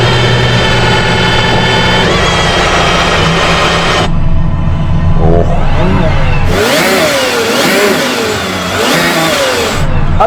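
An Aston Martin Valkyrie hypercar engine revving hard, pitch climbing and dropping through several sharp throttle blips, with a brief pause before roaring again.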